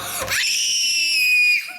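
A child lets out a single loud, high-pitched scream on request, held for about a second after a brief shriller onset, then cut off, close and alone.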